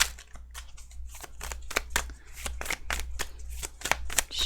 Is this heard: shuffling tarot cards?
yes